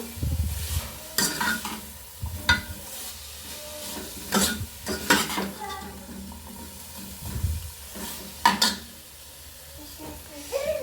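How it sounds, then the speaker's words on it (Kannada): Beetroot palya frying over a low flame, a soft sizzle under repeated scraping stirs of a spatula against the pan, the strokes coming in irregular bursts close up. "ಲೋ ಫ್ಲೇಮಲ್ಲಿ ಇಟ್ಟು ನೀವು ಪಲ್ಯನ ಫ್ರೈ ಮಾಡಬೇಕು"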